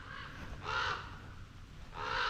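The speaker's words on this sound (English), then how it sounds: "More of those birds. I think they're just crows." Crows caw outdoors after dark, two harsh calls about a second apart at moderate distance, with no talking over them.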